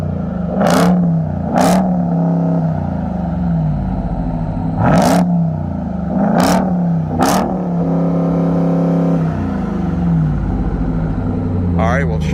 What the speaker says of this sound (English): let's go ahead and do some revs.